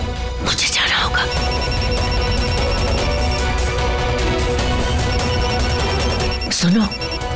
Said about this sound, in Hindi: ये तो मेरी फोन की रिंग है, ये गौरी के कमरे में